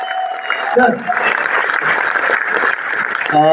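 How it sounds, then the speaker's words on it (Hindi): Audience applause for an honoured guest at a Hindi-language event, a dense, loud wash of clapping that runs steadily throughout, with a voice speaking briefly at the start and again at the end. "एक बार जोरदार तालियां again one and only mister Gautam Mali sir"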